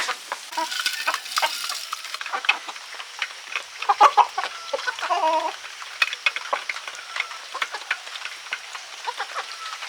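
Chickens cluck and squawk in scattered bursts close by, with a rooster call among them over a rustling farmyard background; free-range hens and roosters on a home farm during rain.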